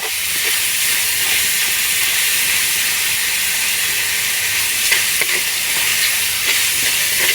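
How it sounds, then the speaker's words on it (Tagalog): Ground meat sautéing in a hot pan, a dense continuous loud hiss and sizzle that stays steady throughout, with faint clinks and no voice. "Sangkotsahin lang natin yung ating giniling bago natin ilagay yung ating gulay."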